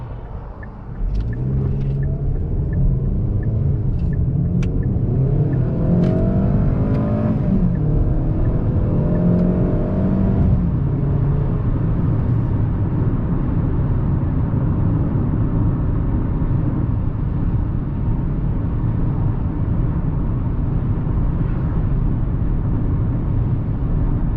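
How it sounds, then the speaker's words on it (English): A 2020 Kia Optima engine revs hard and climbs in pitch as it accelerates, loud and close, then settles into a steady heavy drone with no talking. "Engine, it sounds like I'm actually hurting the car. I don't like the sound."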